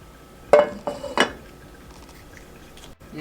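A pan clinks and clatters a few times on the stove as a little oil goes in for browning Impossible Burger ground meat for taco bowls, short knocks followed by a faint quiet hiss.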